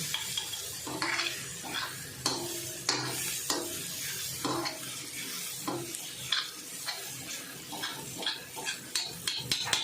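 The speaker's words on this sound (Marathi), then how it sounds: "टोमॅटो वगैरे व्यवस्थित एकदम नरम झाल्याच्या नंतरच हे टाकायचं आणि व्यवस्थित मिक्स करायचे" A spoon stirs a softened tomato mixture in a frying pan over a gentle sizzle, with repeated scraping strokes and small clinks of metal on the pan, close and fairly quiet.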